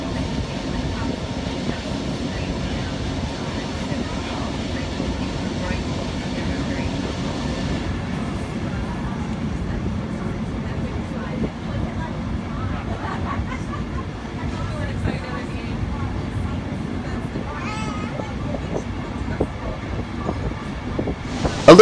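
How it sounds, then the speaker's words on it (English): Steam locomotive 4201 pulls its train away from Branxton toward Maitland during the Hunter Valley Steamfest, giving a steady rumbling roll of carriages with faint clatter, while people chatter faintly in the background. "4201 will now lead the train back to Maitland once again."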